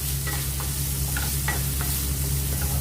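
Frozen green peas being sautéed in a pan, a steady sizzle with a few light stirring scrapes over a continuous low hum.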